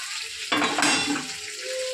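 Tomato, turmeric, ginger-chili paste, garlic and a fried fish head hit hot oil in a pan, setting off a sudden loud sizzle that fades into steady frying with a few stirring scrapes, and no talk.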